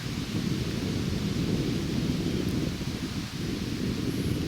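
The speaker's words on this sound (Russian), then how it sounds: "Ветер шумит, да, здесь ветрозащита слабая." Heavy low rumbling buffeting of wind hitting a microphone with a weak windscreen while fishing outdoors, continuous and loud for the whole stretch, with no voices.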